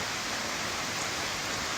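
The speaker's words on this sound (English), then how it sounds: "I didn't escape all the rain." Steady rain falls on the Appalachian Trail as a dense, constant hiss with no breaks, close and moderately loud, and no voices.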